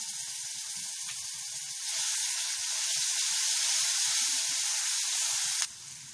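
Ginger garlic paste sizzling with cumin as it sautés, a bright steady hiss that swells louder partway through and then cuts off abruptly, with faint low clinks beneath.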